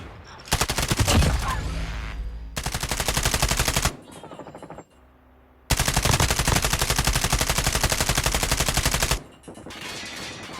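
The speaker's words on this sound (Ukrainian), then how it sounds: "Хто звідки тут стріляє?" Bursts of rapid automatic gunfire from a Holger 26 light machine gun in Call of Duty Mobile rattle loudly in long volleys, separated by short quieter gaps.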